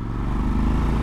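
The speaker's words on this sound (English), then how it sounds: "The arrows gives it a nice throbbing exhaust note, but it's not massively loud." A Triumph Scrambler 1200 XE's street-legal, fully baffled exhaust throbs steadily at close range, a low, even rumble that doesn't build in volume.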